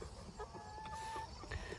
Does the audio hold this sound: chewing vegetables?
no